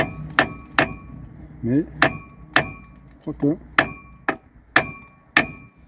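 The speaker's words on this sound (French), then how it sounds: "J'aime pas trop donner les coups de marteau." Repeated hammer blows strike the front suspension of a Peugeot 208 Phase 1 in a cold workshop, about a dozen sharp metallic clanks in a steady rhythm, close and loud, with someone speaking briefly between them.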